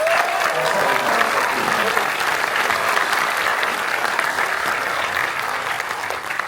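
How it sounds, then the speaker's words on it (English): Sustained crowd applause from an audience at a Warner Bros. Studio Batman Day event, a dense, steady wash of clapping that holds at a constant loud level through the whole stretch without pause. "let's give them one more round of applause"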